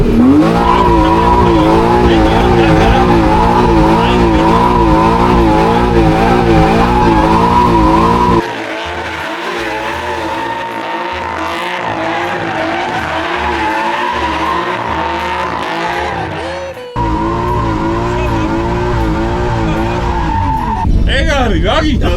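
A car drifts at full throttle with tires squealing loudly and continuously in wavering pitches over a strained engine roar. A voice talks over it in bursts.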